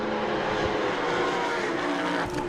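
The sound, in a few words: prototype race cars engines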